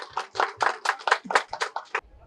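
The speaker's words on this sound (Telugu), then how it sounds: "మన భాస్కర్ రెడ్డి కుటుంబ సభ్యులు గట్టిగా చప్పట్లతో అభినందన" An audience claps at a Patriji birthday celebration in Tirupati, honouring Bhaskar Reddy's family. About a dozen quick, fairly even hand claps come close together before stopping abruptly.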